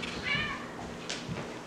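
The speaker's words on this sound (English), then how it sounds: "Uh-oh, the cat's in now." A single short cat meow, fairly close and clear, over faint room noise.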